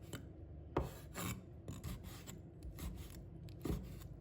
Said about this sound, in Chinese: 我先对半切开，然后用斜刀切成条状